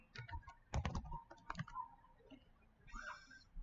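Quick bursts of keystrokes on a computer keyboard while an essay is typed, uneven clusters of clicks with short pauses, close and fairly quiet, no talking.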